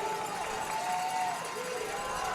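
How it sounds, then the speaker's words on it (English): A high school football crowd at Canyon in New Braunfels roars and cheers steadily throughout, a dense wash of many voices with a faint sustained tone drifting above it. "Crowd getting into it here for Canyon."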